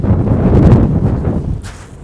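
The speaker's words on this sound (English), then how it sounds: "so windy" Strong wind buffets a microphone outdoors on a city street in a continuous loud rumbling rush for about two seconds.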